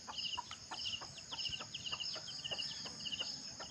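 Chickens cluck in short, repeated calls outdoors, with a steady chirring of insects underneath and no voices.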